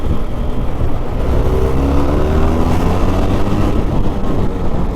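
A Benelli TRK 502 motorcycle engine runs with its original stock exhaust. It is a loud, close, steady droning hum with a mild rise in pitch around the middle.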